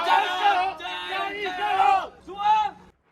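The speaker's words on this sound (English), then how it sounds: "With a confident cheer, a team of rowers sets off at the crack of dawn" A team of dragon boat rowers shouts a confident group cheer at dawn as they set off from a harbor, in three or four loud rhythmic chanted bursts, close, followed by silence.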